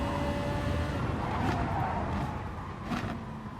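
A race car in a racing video game skids and spins out on track, with engine drone, tire squeal and brief rising whooshes over a steady roaring bed of car noise, heard without talk.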